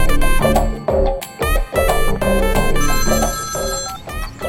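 A telephone ringing with a loud melodic ringtone, bright repeating tones in short bursts with brief gaps, close and alone.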